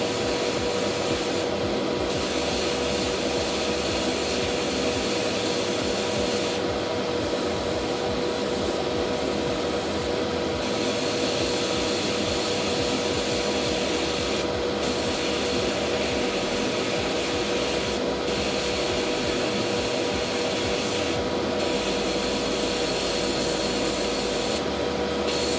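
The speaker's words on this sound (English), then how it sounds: "I'm just gonna very lightly open up the nozzle on the airbrush" An airbrush sprays paint onto a miniature figure with its nozzle opened, a steady close hiss of air that runs almost unbroken, with a few brief pauses and faint rubbing and handling noises.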